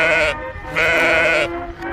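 A sheep bleats twice in drawn-out, wavering calls, loud and close, with a short quiet gap between them and fainter sound trailing after.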